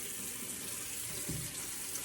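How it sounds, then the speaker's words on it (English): Water runs from a tap over a cleansing pad being rinsed of soap at a sink, a steady soft hiss of flowing water with a brief splash partway through, no voices. "you let your pad run under the water so it can rinse out all the soap"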